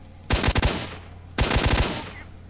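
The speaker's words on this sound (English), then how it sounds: "And I'm shooting him in the bulletproof vest." Two rapid bursts of automatic gunfire crack out in the shooter game S.T.A.L.K.E.R. Shadow of Chernobyl, each a quick rattling volley of several shots with a short gap between them.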